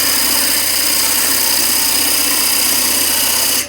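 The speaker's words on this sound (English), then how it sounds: "And now we're going to just cut the recess with a parting tool." A wood lathe spins while a parting tool cuts a recess into a wooden bowl, producing a loud, constant whirring drone that ends abruptly at the close.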